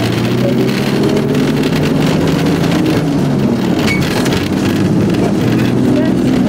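A vintage three-speed snowmobile engine runs steadily at a snowmobile Grand Prix in Valcourt, a continuous low drone with wind buffeting the microphone throughout.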